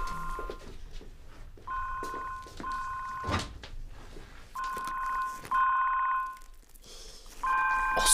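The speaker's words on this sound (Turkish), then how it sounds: "Telefon." A telephone rings in repeated electronic trilling bursts separated by short gaps, moderately loud in a quiet room with no one talking.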